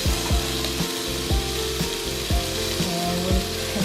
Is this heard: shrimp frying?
yes